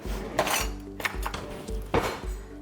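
A metal spoon is grabbed from among dishes in a kitchen, giving a few close clinks and knocks of cutlery against crockery, with no talk.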